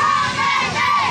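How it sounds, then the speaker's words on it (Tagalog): A large outdoor crowd in Davao City chanting the name Duterte in loud, rhythmic unison, heard as a brief, dense burst of many voices. "Ang sigaw ng tao ay Duterte, Duterte."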